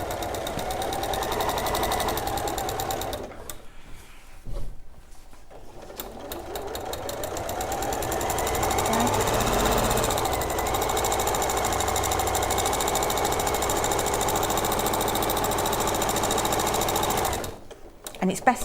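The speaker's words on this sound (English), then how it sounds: "So I'm just going to stitch along there." A sewing machine stitching through several layers of fabric, a loud fast mechanical whirring run that pauses briefly near the start, then continues steadily before stopping near the end.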